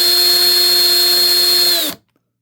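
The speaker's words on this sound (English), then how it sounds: "We're just going to drill a hole that probably isn't going to line up." A power drill spins at a steady high whine while drilling a hole in a stock shock absorber, running for about two seconds before winding down and stopping.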